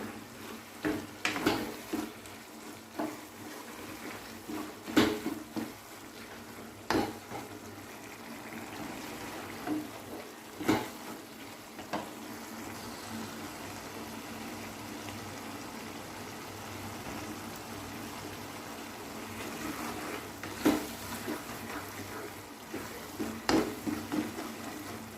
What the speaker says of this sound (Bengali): এবার যতক্ষণ আমার জলটা শুকিয়ে না যাবে ততক্ষণ আমি নাড়াচাড়া করে